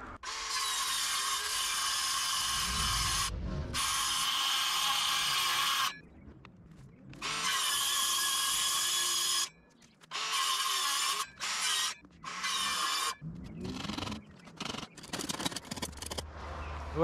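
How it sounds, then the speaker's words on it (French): An OSB board being cut into a long strip gives bursts of harsh, high-pitched power-saw whine. They start and stop repeatedly, with short silent gaps between runs and a choppier stretch of quick bursts toward the end. "Je vais couper maintenant. Je vais commencer par la longue bande."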